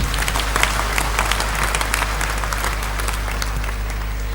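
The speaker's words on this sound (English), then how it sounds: "Give her a very big round of applause" A congregation gives a big round of applause for a woman, a steady, dense clapping of many hands that continues throughout without talk.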